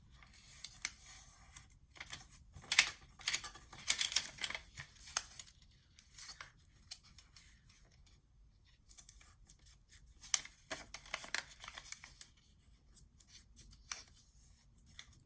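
Scissors snip through 12x12 paper for a junk journal mini album in short bursts of quiet, close crisp cuts, with a quieter stretch in the middle before another cluster of snips.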